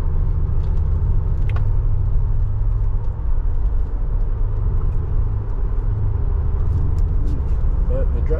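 Mercedes G63 SUV with misaligned wheels driving on the road, a continuous deep engine and road rumble heard from inside the cabin, steady and fairly loud throughout.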